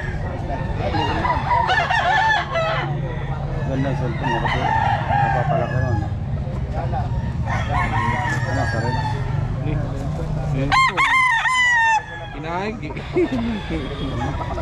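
Several roosters crow one after another over clucking hens, loud and close, while people talk in the background throughout.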